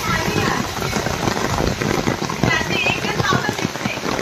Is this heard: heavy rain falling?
yes